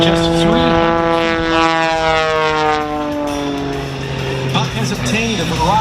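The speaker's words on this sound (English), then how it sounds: "Take a look now as Buck continues to slow the airplane down, nearly zero airspeed as he backs it up." A Pitts S-2 aerobatic biplane flies at the 2024 Vidalia Onion Festival air show, its engine tone sliding and whining as the plane slows nearly to a stop, heard under a loud announcer's commentary.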